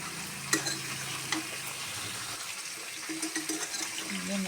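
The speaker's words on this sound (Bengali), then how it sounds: "আমি নাড়াচাড়া দেবো।" Jackfruit curry being stirred in a pan, a soft scraping and gentle sizzling with a few faint clinks, fairly quiet and steady throughout.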